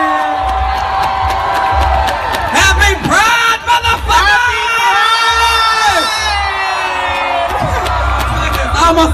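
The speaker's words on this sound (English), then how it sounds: "almost got knocked out by the screams" A large crowd at the LA Pride celebration screams, whoops and cheers loudly and continuously, with shrill shouts and yells rising in waves close by.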